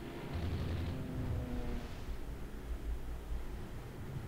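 Torpedo hits and explosions on a ship in the naval strategy game Rule the Waves 2, heard as a continuous low rumbling roar of booms and blasts that swells and lingers without talk.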